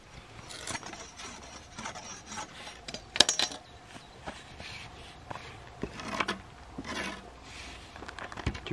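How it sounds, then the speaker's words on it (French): A knife carves a wooden tool handle in a garden, making irregular rasping and scraping strokes with occasional sharper cracks and pauses between them, close and fairly quiet. "je vais commencer à travailler ça au couteau"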